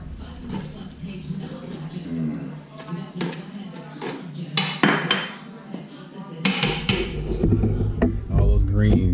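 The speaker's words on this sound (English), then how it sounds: "I'm gonna take the top off and check them." A metal lid comes off a pot of cooked Southern-style greens with clanks and scrapes of metal cookware, close by, while someone talks throughout.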